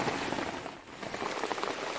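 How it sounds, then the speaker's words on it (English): Steady, incessant rain pattering on surfaces at a wet camping site, a dense continuous hiss of drops that stays loud and even throughout with no voices. "this one, it just seems to be incessant rain"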